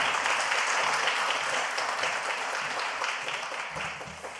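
A church congregation at an autumn revival service applauds to welcome the pastor, a steady, dense wash of many hands clapping together that fades slightly toward the end.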